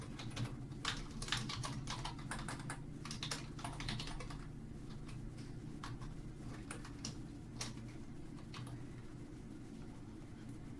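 Computer keyboard typing while an online application form is filled in, a steady run of quiet, close clicks with a few louder keystrokes and no one talking.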